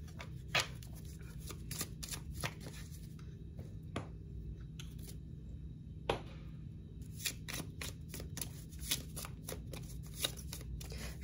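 Playing cards being shuffled close up, with crisp riffling bursts and soft flicks repeating over a faint steady hum, and a brief quieter pause in the middle.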